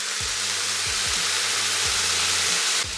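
Soy sauce hits edamame in a hot pan and sizzles as a loud, steady hiss. The sizzle holds unbroken for about three seconds over a faint low hum, with no voices.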